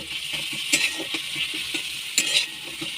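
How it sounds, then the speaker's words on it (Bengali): Spice masala stir-fried in oil for a fish curry with potato and cauliflower: a steady close sizzle with a few sharper scraping strokes of a spoon against the pan, no talking. "এটাকে ভালো করে আমি কষিয়ে নেব, যতক্ষণ না এর থেকে তেল বেরোচ্ছে"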